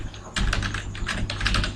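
Quick bursts of keystrokes on a computer keyboard as a file name is typed, close and fairly clear, with an irregular rhythm over a low steady hum and no speech.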